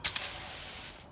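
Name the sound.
car jet washer hose attachment spraying water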